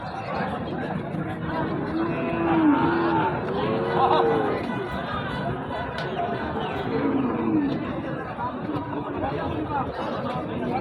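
Shahiwal, Gir and Brahma bull calves low in drawn-out calls over a dense cattle-market crowd chattering, with several moos rising above the busy background.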